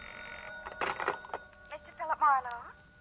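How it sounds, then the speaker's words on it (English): A telephone rings as a sound effect in an old-time noir radio mystery drama, sounding in short bursts at the start and again near the end, with a few softer clicks and knocks in between. "I was set for the next in line when the phone rang."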